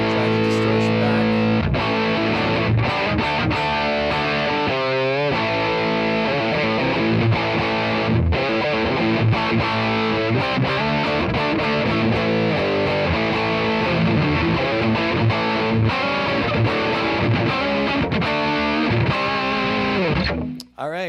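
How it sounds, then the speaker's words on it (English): Electric guitar played through a Caline CP-34 Head Room distortion pedal, a rat-clone overdrive, gives a continuous, heavily saturated riff with sustained chords and bright buzzing harmonics, loud and unbroken for about twenty seconds before cutting off. "That's the Caline headroom, overdrive, distortion, rat clone pedal, whatever you want to call it."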